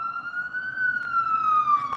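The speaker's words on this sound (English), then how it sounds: "there was all that siren that was going by" A siren from an emergency vehicle going by outside, a steady wailing tone that slowly rises and falls across the whole stretch, fairly loud and continuous over faint background noise.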